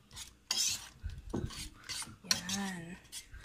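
Buko pandan dessert being mixed in a bowl, with scraping and rasping strokes of a utensil against the bowl, several loud irregular swipes up close.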